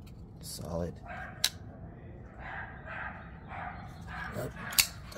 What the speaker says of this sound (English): Oh, dog's going at it out there.